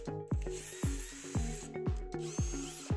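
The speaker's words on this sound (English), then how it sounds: "Unscrew the four screws holding the controller in place." A power screwdriver unscrewing the screws that hold an Apollo RFN e-bike controller, with short, close whirring bursts repeating in quick succession, each ending abruptly.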